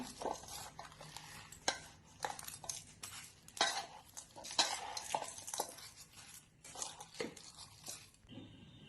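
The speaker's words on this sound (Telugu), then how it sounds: "పసుపు, ములక్కాయ ముక్కలు కూడా వేసుకొని కలుపుకోవాలండి" A spoon stirs drumstick pieces and chopped tomato with salt and turmeric in a pot for a pickle, giving soft, irregular scraping and occasional light clinks against the vessel, close and fairly quiet, with no talking.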